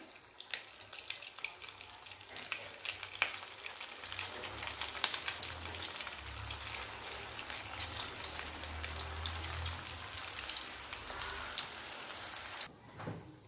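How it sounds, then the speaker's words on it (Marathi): Leftover chapati vadis deep-fry in hot oil with a dense, continuous crackling sizzle that swells and settles over several seconds, then cuts off sharply near the end. "अशाच पद्धतीनं दुसऱ्या वड्या आपण तळून घेऊया"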